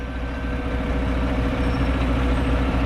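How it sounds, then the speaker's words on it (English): Nearby cement mixer truck engine rumbling steadily, a loud continuous low drone. "It's a truck, it's a mixing truck. It's a cement mixing truck."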